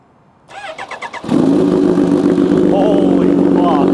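A Bimota H2 1000cc motorcycle engine cranks over with a few rapid stuttering pulses, then catches and settles into a loud, steady, close-up idle that runs to the end, with no talking.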